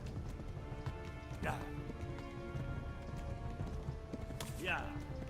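Steady rhythmic clip-clop of a horse's hooves at a gallop in the video game Kingdom Come: Deliverance, with a couple of rising horse-like calls over a dense, busy background.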